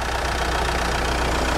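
A 2.5 litre inline-4 turbo diesel in a 2010 Mitsubishi Triton with a five-speed manual idles steadily up close, giving a continuous low rumble with a faint knock and no voices.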